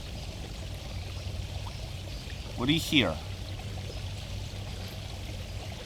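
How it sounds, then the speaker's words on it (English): Steady bubbling of an outdoor pond fills the background, a continuous soft wash of water that holds at the same level throughout while a voice speaks briefly near the middle. "There's the obvious bubbling of the pond behind me and lots of birds."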